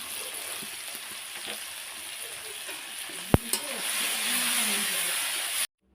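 Potatoes with salt and turmeric fry and get stirred in a pan, giving a steady broadband sizzle with small scraping stirs and a couple of sharp clinks near the middle before it cuts off.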